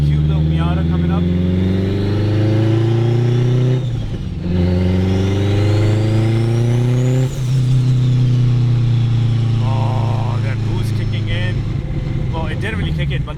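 Turbocharged 800hp all-wheel-drive Acura RSX Type-S accelerating hard, its engine note climbing through gears in loud rising sweeps with a turbo whistle and brief lifts between pulls, close and continuous, with people talking over it.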